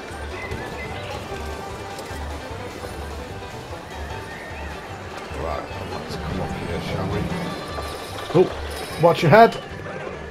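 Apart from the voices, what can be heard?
horses neighing and hooves in Planet Coaster video game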